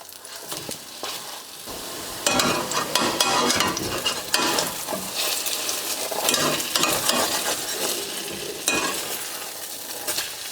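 Vegan brisket steaks fry in hot oil, browning on both sides; a softer sizzle swells into a loud, steady crackle after a couple of seconds, with occasional sharper pops and no talking.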